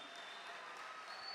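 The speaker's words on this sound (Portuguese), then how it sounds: "vamos aplaudir ao Senhor." A church congregation applauds together at a service, a steady broadband patter of clapping that fills the room evenly and runs throughout without a break.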